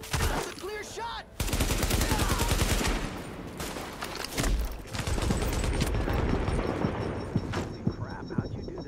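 Sustained automatic gunfire in The Division video game, dense rapid bursts with booming impacts after a brief opening pause, loud and continuous with brief gaps, a voice talking faintly underneath.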